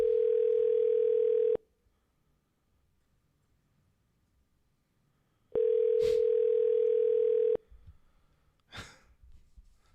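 Outgoing telephone call ringback: two long steady ring tones about four seconds apart, loud and clean with no voices, followed by a couple of faint breathy sounds.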